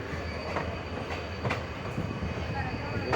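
Passenger train at Sihor Junction railway station, its wagons rumbling steadily with periodic wheel clacks and faint squeals, heard from on board amid a continuous moderate roar.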